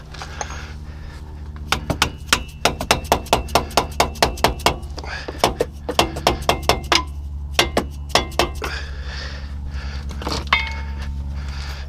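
A screwdriver works at a wheel bearing on a Chevrolet Tahoe, giving a long series of sharp metallic clinks and taps, near and fairly loud, in irregular rhythmic runs over a steady low hum, with no talking.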